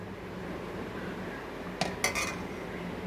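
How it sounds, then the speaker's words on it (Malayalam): A utensil stirs milk mixed with curd starter in a metal pot, giving a few quick, close clinks and scrapes against the pot after a quiet stretch. "ഇത് നല്ലപോലെ ഇളക്കി കൊടുക്കണം."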